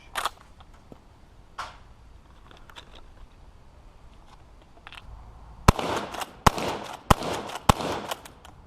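A Ranger lever action shotgun fires buck and ball loads, with four sharp, loud reports coming in quick succession near the end after quieter handling clicks and ambient noise.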